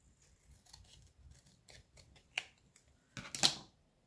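Scissors snip through patterned craft paper while trimming a page for a handmade scrapbook album, with soft small clicks early on and a louder, sharper burst of cutting near the end, close and with no talk.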